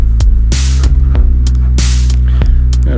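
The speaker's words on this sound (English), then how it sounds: "I think I'm going to put a drum loop in there" Drum loop for a downtempo trip hop track thumps in a slow, loose groove with sharp snare-like hits and crashy bursts over a loud, deep droning bass hum.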